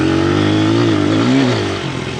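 Honda 100 motorcycle fitted with a new Amazon carburetor, its engine droning loud and close while riding, pitch rising and dipping slightly before settling lower.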